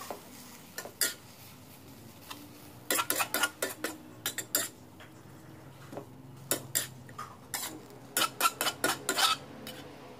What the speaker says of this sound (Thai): ใส่ผักกระเฉดที่เราปรุงไว้แล้วลงไปได้เลยค่ะก็เราจะผัดจนกว่าผักกระเฉดจะสุกนะคะ